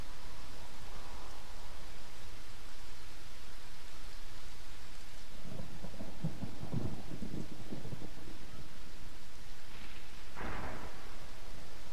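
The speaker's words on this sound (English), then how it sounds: "It's just rain." Steady rain hiss with a low thunder rumble rolling in midway and a brief sharper crack near the end, all fairly faint.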